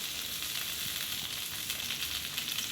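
Bangude mackerel coated in masala fries in oil in a pan, a steady close sizzle with faint crackles and no one speaking.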